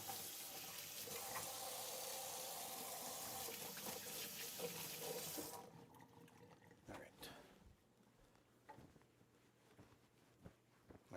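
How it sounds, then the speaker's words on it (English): Water runs from a kitchen tap for hand washing during shrimp prep, a steady broadband rush for about five seconds that cuts off abruptly, followed by quieter sink and kitchen handling noises. "Let me wash my hands."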